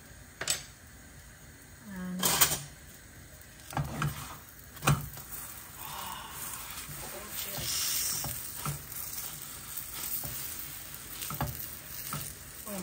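Garlic chicken paratha sizzles quietly in just a few drops of oil, a steady low hiss broken by several sharp clinks and scrapes of a utensil against the pan.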